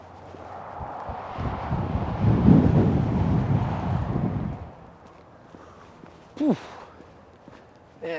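Cold wind blows outdoors by a reservoir, a rumbling gust swelling loud mid-way across the microphone and then easing off, followed by a short brushing sound and quieter air.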